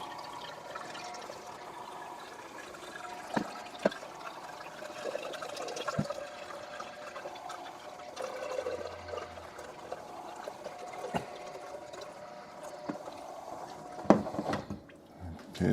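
Water from a Frigidaire PureSource Ultra refrigerator filter runs into a half-gallon pitcher as a faint, steady trickle with a few small knocks and clinks, and no one speaks.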